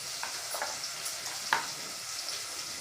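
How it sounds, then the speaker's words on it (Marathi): Turmeric, onion and garlic stirred in a hot pan for masale bhat, a soft steady sizzle with light scraping strokes and one sharper clack of the spoon midway. "आणखीन थोडा वेळ हलवून घेऊ आपण"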